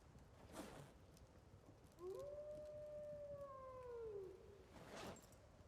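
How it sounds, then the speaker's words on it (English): A wolf howls in Project Zomboid, one long rising-then-falling wail with harmonics lasting a couple of seconds, heard at a distance over quiet ambient background, framed by soft brief noises before and after. "Listening to Wolf's Howl."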